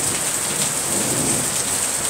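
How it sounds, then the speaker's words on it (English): Heavy rain pours onto a patio during an afternoon thunderstorm at 7,200 feet in San Cristobal de las Casas, Chiapas, Mexico, a loud, steady, unbroken hiss with no voices. "A lot of lightning and thunder."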